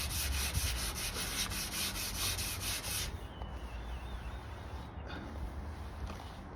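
Light wet sanding of paint on a VW T25 Westfalia panel, a steady rhythmic rubbing with repeated strokes for the first few seconds, then softer, slower scuffing that continues at low level.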